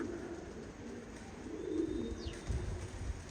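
Pigeons cooing among a flock of many birds, a soft low murmur of coos running steadily under background noise, somewhat distant, with faint chirps above.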